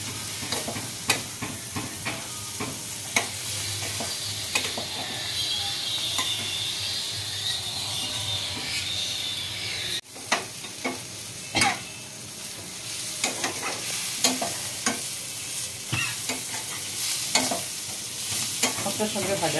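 Okra frying with spices in a pan, giving a continuous close sizzle broken by frequent scraping stirs and spatula knocks throughout, with a brief pause midway before the stirring resumes.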